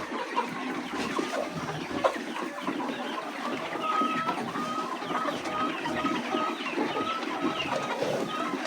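A flock of young laying-hen chicks clucks and chatters continuously, many birds close by, with occasional sharper calls over the busy murmur.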